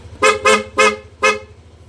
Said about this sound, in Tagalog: nilagay nating bagong busina